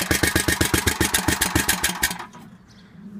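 A Snapper lawn mower engine runs close and loud with a fast, even chugging beat for about two seconds, then cuts out, leaving quiet ambience.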